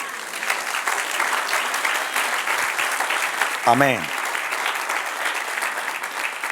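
Steady applause from a church congregation fills the room, a dense crackle of clapping hands with one voice briefly calling out partway through.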